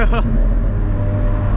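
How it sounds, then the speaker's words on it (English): A loud, steady engine and intake roar with deep rumbling from inside an Alfa Romeo 4C sports car on a track day, opening with a brief burst of voice before the engine noise dominates. "Listen to that intake."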